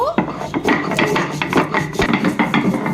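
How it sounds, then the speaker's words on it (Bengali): Garam masala of cardamom, cinnamon and cloves is ground by hand on a stone shil-pata, a close rhythmic series of gritty scraping and knocking strokes. "এই যে শিলপাটাতে গরম মশলা বাটা"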